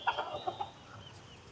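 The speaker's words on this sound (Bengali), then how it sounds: "আর মুরগিগুলো আমার ধরে ধরে ঢুকাইতে হবে।" Chickens being herded into their coop give a few short, quiet clucks in quick succession, heard close by with no talking.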